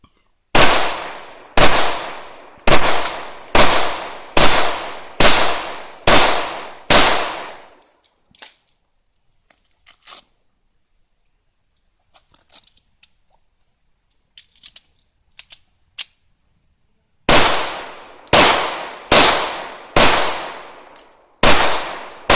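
Rock Island pistol fired at a sign in a volley of about eight loud, evenly spaced gunshots, then a quiet pause with faint clicks of a magazine change, followed by another rapid string of shots.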